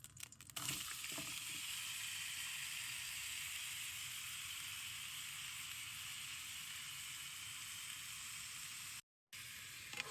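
Shrimp sizzle steadily in an oiled pan on the stove, a dense, even frying hiss heard up close and alone for the whole stretch, with a faint clatter at the start.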